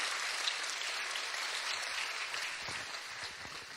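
Audience applause at the Strassenfest pageant for the queen and her court, a steady wash of clapping from a crowd that slowly thins toward the end.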